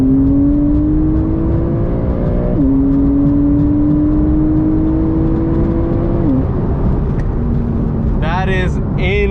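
A Porsche 992 911 Carrera S with PDK gearbox accelerates hard, its engine note climbing steadily, dropping briefly at two quick upshifts, then rising again, loud from inside the car.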